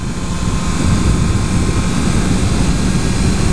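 A 2014 Honda CBR650F inline-four motorcycle engine at 6,000–7,000 rpm gives a loud, steady roar that holds a constant pitch throughout, close up with broadband wind rush over it.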